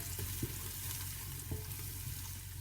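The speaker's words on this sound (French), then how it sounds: "une fois que j'ai bien fait revenir l'oignon et l'ail dans l'huile d'olive" Onion and garlic fry in olive oil with spices in a pan, giving a steady dense sizzle close by, broken by a couple of soft stirring knocks.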